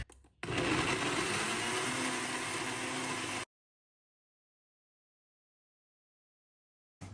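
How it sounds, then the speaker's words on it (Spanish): A kitchen blender whirs loudly as it purees chiles, garlic, onion, oil and salt, a steady roar lasting about three seconds before cutting off abruptly into silence. "Voy a empezar a agregar lo que son los chiles, el ajo y la cebolla a la licuadora."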